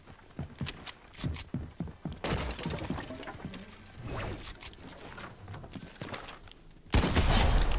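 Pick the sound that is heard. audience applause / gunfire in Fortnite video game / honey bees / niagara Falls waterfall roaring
gunfire in Fortnite video game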